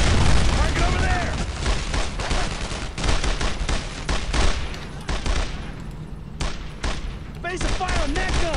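Machine gun fire in the World War II video game Brothers in Arms: Road to Hill 30 rattles in dense, loud bursts mixed with booming explosions, with voices shouting over the battle.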